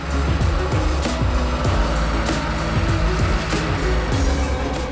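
A tractor working a field for potato planting with a 3-metre subsoiler, its tines loosening soil about 60 centimetres deep; a loud, close, steady engine drone with fluctuating pitch under load and rattling from the implement.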